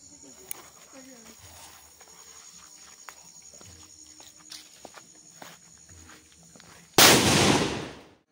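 A firecracker bomb explodes at a temple festival, a single loud blast near the end that decays into crackling noise, after quiet background sounds and faint voices.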